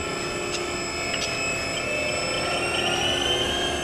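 A 2010 Haas VF-2B vertical machining center spindle runs at 3,500 RPM, giving a steady, fairly loud whine and hum with a few faint clicks and no speech.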